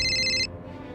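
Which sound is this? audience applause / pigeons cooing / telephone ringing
telephone ringing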